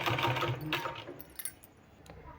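A sewing machine runs in short rapid bursts while stitching a sleeve onto a garment, a faint mechanical whirr with small clicks and taps, quiet and close.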